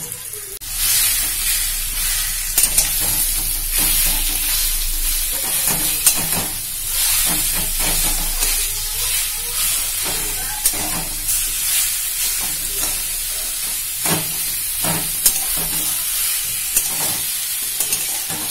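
Ash gourd is stirred and fried in a wok with grated coconut and bay leaves, giving a constant hissing sizzle broken by repeated scraping and clinking strokes of the spatula, close and without talk.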